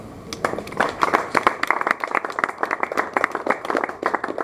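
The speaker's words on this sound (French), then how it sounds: "Acclamons pour la parole." A church congregation applauding together, a dense and steady run of many hands clapping at moderate distance that fills the whole stretch, with a faint murmur of voices underneath.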